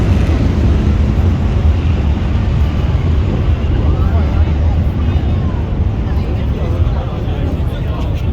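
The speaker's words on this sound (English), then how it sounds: "First of the F-15s being scrambled." F-15 fighter jets scrambling at a Singapore air force open day produce a loud, continuous low engine roar that holds steady throughout, with crowd noise and wind buffeting mixed in.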